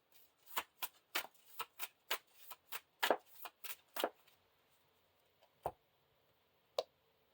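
A deck of cards for a Lord of the Rings living card game is shuffled in a quick series of about a dozen crisp, close riffling bursts, followed by a quiet pause and two more isolated card snaps.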